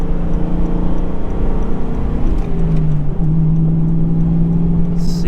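A 1994 Ford Mustang GT engine drones loudly while merging onto the interstate, a steady low rumble with road and wind noise and a brief rising tone partway through, heard from inside the car.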